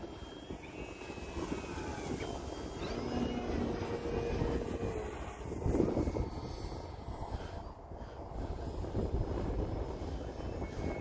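Flex Innovations Mamba 60E electric RC airplane flying, a continuous whining motor and propeller drone that rises and falls slightly as it passes at a moderate distance, over a steady outdoor background.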